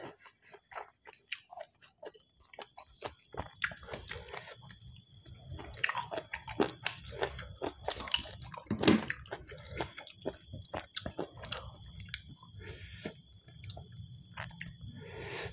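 Close, wet crunching bites of crispy sun-dried fried tilapia eaten at a home dinner, chewed in irregular bursts with short pauses, loud and near with no talking.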